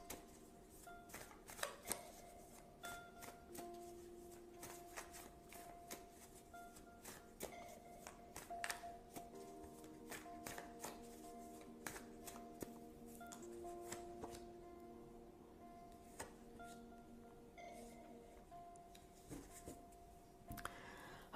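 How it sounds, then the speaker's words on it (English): Tarot cards being shuffled by hand at close range, a steady stream of soft riffling and papery flicks with scattered sharper taps, no voices. "So now let's get 2 cards, or choose 2 cards for possible outcomes."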